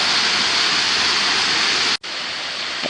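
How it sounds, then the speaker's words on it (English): Waterfall at Falling Waters State Park, Florida, where water drops 70 feet into a sinkhole: a loud, steady broadband roar of falling water, continuous and close, with a brief dropout near the end. "the water is coming over the waterfalls"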